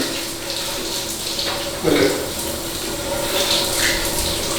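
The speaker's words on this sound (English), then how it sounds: "Now, contrast, take a hot shower." Hot shower water runs in a steady, close hiss of spray in a bathroom, with a brief louder splash partway through.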